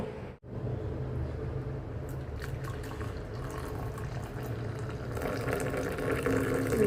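Tea steeped three to four minutes is strained into a cup, a steady, close liquid pour and trickle running throughout, with a brief pause near the start.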